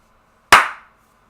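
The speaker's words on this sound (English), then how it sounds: "Slow clap." One sharp, loud handclap sounds close by, alone against silence, with a short fading ring after the hit.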